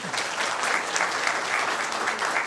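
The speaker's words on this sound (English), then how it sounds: "And that applause was for you." Steady applause at a county board of supervisors meeting, a room of people clapping continuously at moderate loudness.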